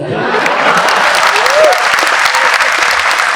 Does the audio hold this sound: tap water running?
no